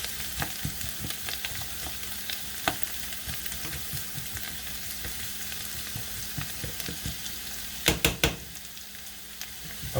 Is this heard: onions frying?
yes